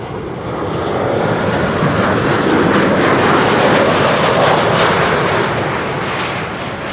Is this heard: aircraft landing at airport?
yes